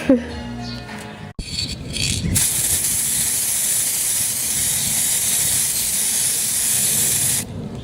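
A can of gold spray paint hisses in one long, loud, continuous burst after a few brief rattles and clicks, then cuts off near the end.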